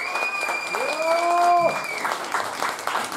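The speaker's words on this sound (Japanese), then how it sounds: "大きな拍手で、" An audience applauds loudly at a live concert while a tonal voice or instrument line sweeps over the steady, dense clapping.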